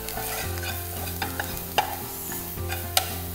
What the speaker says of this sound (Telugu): సన్నగా తరిగిన వెల్లుల్లి వేసి రుచికి సరిపడా ఉప్పు, మిరియాల పొడి ఇవన్నీ ఇలా మిక్స్ చేసి